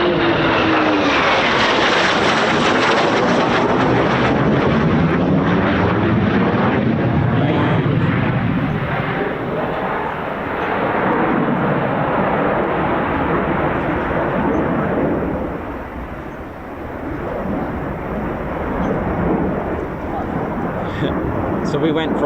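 A fixed-wing aircraft arrives at RAF Coningsby with a loud, sustained engine and propeller roar. It holds strong and near for most of the stretch, then eases slightly and swells again.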